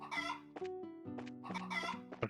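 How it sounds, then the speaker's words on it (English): Chickens clucking in the game Trails in the Sky: a close, clear series of rhythmic clucks and drawn-out calls from farm fowl, alone with no talking. "Or chickens. No, it must be chickens."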